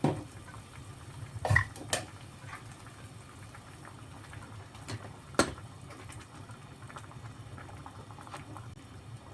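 Fish soup bubbling at a steady simmer in a pot, a soft continuous boil with a few louder knocks and clatters, no voices.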